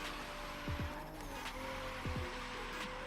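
A race car in a racing video game drifts through a double apex turn on a drift circuit, its engine droning steadily while two short pairs of tire squeals cut through.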